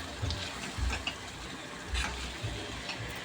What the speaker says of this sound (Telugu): ఇందులో కాస్త అంటే కాస్త ఎక్కువ వేయకుండా వాటర్ అయితే వేసుకుందాం